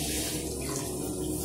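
Steady water streaming from a movable kitchen sink faucet and splashing into the basin, close and continuous, with no talk over it.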